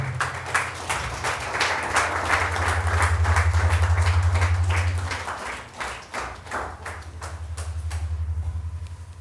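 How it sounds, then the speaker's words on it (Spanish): Church congregation applauds to praise the Lord, rhythmic clapping with a sustained low musical tone underneath, swelling and easing across the stretch. "Denle un fuerte aplauso al Señor"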